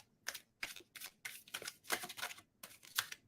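Oracle cards are shuffled in quick riffling bursts, about eight short rustling passes in a steady rhythm, close and fairly quiet with no talking.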